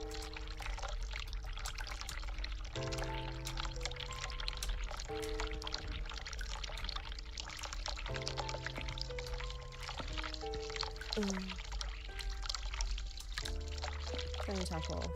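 A hot water tap runs in The Cat Lady video game, a steady flow of water heard throughout beneath a layer of sustained, shifting musical tones.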